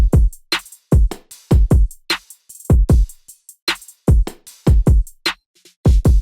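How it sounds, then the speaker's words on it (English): Electronic dance track drums, kick and snare layered with added percussion, ticking hi-hats and occasional crash cymbals, a busy steady groove played loud with no voices. "Then I added in a bunch of percussion and hi-hats and crashes"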